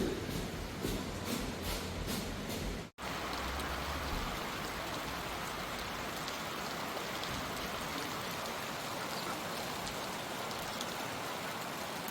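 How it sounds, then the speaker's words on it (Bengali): Steady rain pours down on a mountain hillside in cold weather, a dense continuous hiss of drops on surfaces with no voices, briefly cutting out for an instant near the start before resuming unchanged. "আপনাদেরকে এই বৃষ্টির সাক্ষী করব পাহাড়ের বৃষ্টি বলে কথা"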